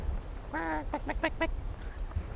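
Chickens kept outdoors give a short burst of nasal, squawking clucks, one drawn-out call followed by several quick, clipped ones, close by against a low rumble of background noise.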